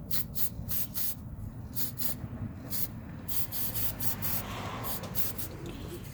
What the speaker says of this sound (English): And you just give a little spray.